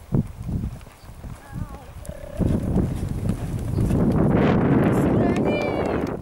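A horse's hooves clop rhythmically during a riding lesson, close to the microphone under wind noise, with people talking over the hoofbeats.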